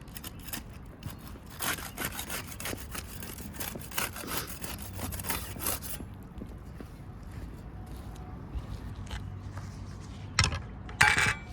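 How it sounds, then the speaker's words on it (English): A putty knife pries and scrapes under sealed asphalt roof shingles, giving repeated close scraping and crackling strokes with occasional sharper clicks and knocks near the end. "We'll use the putty knife to unseal the top shingle."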